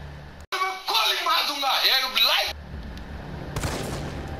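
A gunshot in Resident Evil 3 Remake cracks once late on, a sharp burst after a stretch of talking voice.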